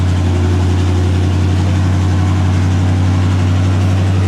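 A 1964 Corvette engine running without mufflers after being put back together, a loud, steady, rumbling idle with a strong low drone that holds throughout.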